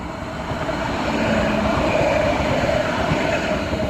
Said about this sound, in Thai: อันนี้มารถไฟมาจากสนามบินจ้ะ